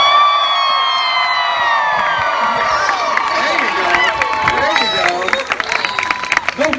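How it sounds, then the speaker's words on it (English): A crowd at a renaissance fair spectacle applauds and cheers loudly, with sustained clapping, whoops and children shouting, rising into dense excited noise toward the end. "I want to hear what level 3 round of applause sounds like."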